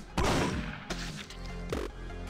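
Video game gunfire, a few quick shots: one heavy burst at the start, followed by two lighter reports spaced under a second apart, moderately quiet.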